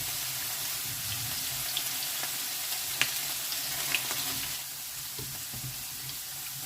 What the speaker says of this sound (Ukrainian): В грибочках повинна випаруватися вся волога, і вони вже треба нам, щоб вони трішечки обсмажувалися